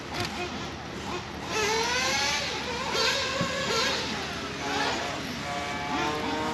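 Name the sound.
RC race car running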